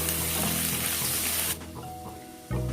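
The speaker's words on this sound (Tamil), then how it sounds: "இப்போ இதெல்லாம் மிக்ஸ் பண்ணி விட்டுடலாம்" Cut carrots, beans and green peas are stirred in a hot pan for vegetable pulao, giving a steady loud sizzle with scraping and clattering, a short dip midway, then full frying noise again.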